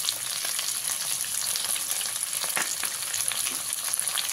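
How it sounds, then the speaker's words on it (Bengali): Squares of onion and capsicum fry in a pan for chili chicken, giving a steady, close sizzle and crackle with occasional stirring scrapes and no talking. "পেঁয়াজ আর ক্যাপসিকামটাকে 1 থেকে 2 মিনিটের জন্য আমি ভেজে নিয়েছি"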